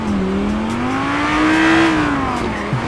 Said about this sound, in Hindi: बॉय V10 इंजन है इसके अंदर। आवाज भाई, आवाज, ओहो क्या बात है, आवाज सुनो जरा।